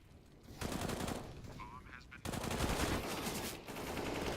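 Gunfire in a tactical shooter video game rattles in rapid automatic bursts over a dense bed of game sound, with a brief dip in the middle before the sustained firing resumes.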